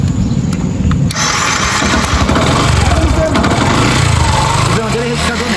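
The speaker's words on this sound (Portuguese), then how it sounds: "Liga aí pra gente a moto." Yamaha Fazer 250 motorcycle with an engine noise fault starting and running close by, a rough irregular idle with rattling tones, while someone talks over it in Portuguese.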